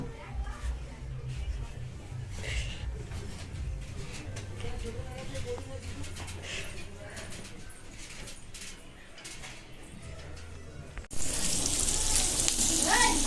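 Pointed gourd (potol) frying in a pan, a steady close sizzle and spatter of oil running throughout, turning louder and brighter near the end.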